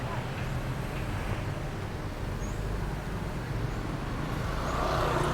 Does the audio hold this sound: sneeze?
no